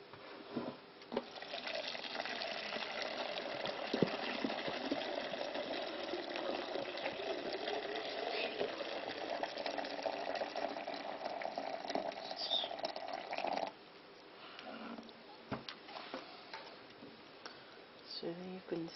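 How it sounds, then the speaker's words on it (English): Boiling water pouring into a yoghurt maker, a sustained rushing gurgle that runs for most of the stretch and then stops, followed by quieter clatter, with people talking over it. "Pour your boiling water in."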